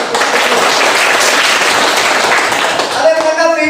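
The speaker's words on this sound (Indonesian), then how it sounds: "Berikan aplaus." A classroom audience applauds, dense steady clapping filling the room for several seconds before tapering off, with a voice emerging at the end.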